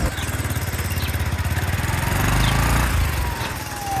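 A motorcycle engine chugs close by at a steady mid-range pulse, rumbling continuously as the bike moves along a road between Lagos and Ogun State, Nigeria.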